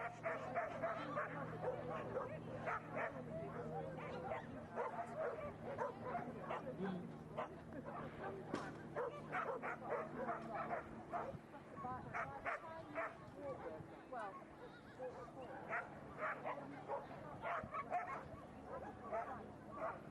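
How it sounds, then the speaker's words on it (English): A border collie or working sheepdog barks and yips repeatedly in quick, uneven bursts during a dog show run, fairly close, with an announcer commentating over the action throughout. "this is a border collie or a working sheepdog"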